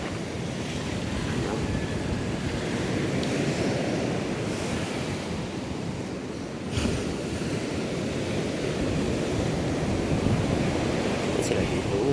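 Big ocean waves roll and wash continuously with a dense, roaring surf, and wind buffets the microphone throughout; voices are faintly present.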